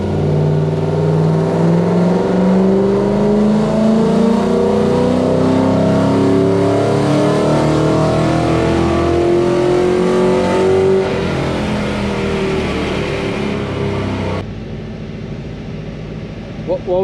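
A Toyota 1UZ V8 in a Zephyr, run on a dyno with a Haltech 2500 Elite, revs loudly, its pitch climbing steadily before dropping off abruptly near the end, with voices talking over it.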